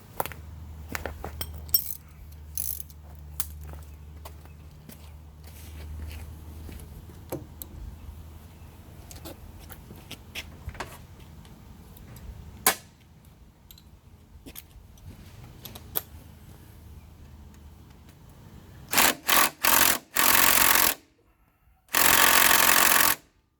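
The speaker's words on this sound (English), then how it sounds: "And now we'll just loosen the nuts. Yeah, get a ratchet on this one." Ratchet loosening engine mount nuts on a Simplicity Sunstar 20 garden tractor, with scattered sharp metallic clicks and clinks over a low hum, then several loud bursts of rapid ratcheting near the end.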